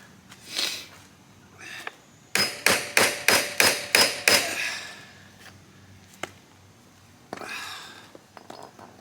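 Sharp metal hammer blows struck at a stripped bolt seized in the seat pan of a 1984 Kawasaki KDX80 dirt bike, a rapid run of about seven evenly spaced close strikes, with a few scattered knocks and handling noises before and after.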